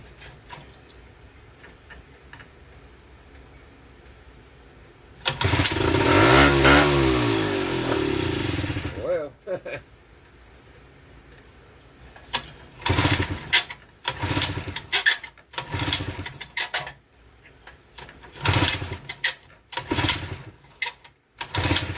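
A Tecumseh boat motor that needs carburetor work sputters into a loud, rough run for a few seconds, then fires again in uneven bursts and surges that keep cutting out, close and harsh.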